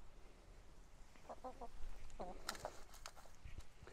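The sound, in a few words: clucking ex-battery hens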